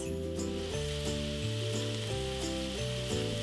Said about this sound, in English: I'm going to brown this lamb in the skillet over a medium-high heat